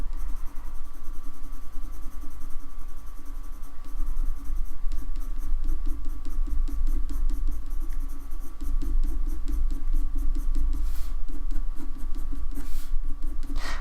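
Coloured pencils scratch across paper in a close, continuous patter of short strokes, steady and fairly loud with a constant low room hum underneath and no talking.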